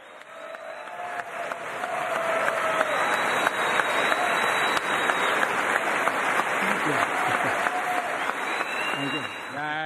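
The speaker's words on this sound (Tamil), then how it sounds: "மோடியின் பேச்சை பாராட்டி பலமுறை உறுப்பினர்கள் எழுந்து நின்று கைத்தட்டினர்." US members of Congress applaud Indian Prime Minister Modi's speech in the chamber, a sustained roar of many hands clapping from a large crowd, loud and even, with faint voices mixed in near the end.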